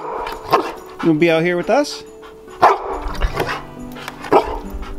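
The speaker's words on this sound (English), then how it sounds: "Why are you barking?" A dog barks a few sharp times at close range, interleaved with a person talking nearby.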